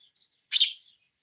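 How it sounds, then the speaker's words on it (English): A single short, bright chirp from a pet bird at feeding time, close and clear against near silence. "Who's that handsome bird?"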